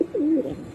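A pigeon from a breeding pair gives a single soft, low coo, close and alone, with a short rising-and-falling warble.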